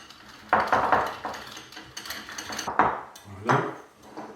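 Utensils clatter and scrape against a bowl while a leek and potato salad dressed with olive oil is mixed, several irregular knocking strokes with pauses between them, close and fairly loud, with no talk.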